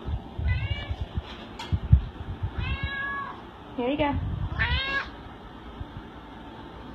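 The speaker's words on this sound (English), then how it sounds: "She's gonna keep meowing." A cat at a shelter meows repeatedly, about four clear, drawn-out meows near the microphone, while a person speaks briefly and food is handled in the background.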